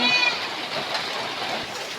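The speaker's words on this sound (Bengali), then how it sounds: "এখন কত জোর করে বৃষ্টি পড়েছে" Heavy rain pouring outdoors near a house, a dense, even hiss of falling water that holds steady throughout, fairly loud and close.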